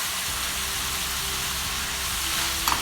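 Meat sizzles steadily in a hot pan with a sprinkle of black pepper, a continuous close frying hiss with a small clink near the end.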